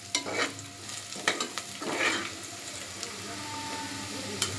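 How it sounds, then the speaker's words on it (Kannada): Chicken biryani masala frying in a home pan, a soft steady sizzle broken by a few scraping stirs and clinks near the start, close and fairly quiet with no talk. "ಇನ್ನು ಸ್ವಲ್ಪ ಚೆನ್ನಾಗಿ ಫ್ರೈ ಆಗಬೇಕು"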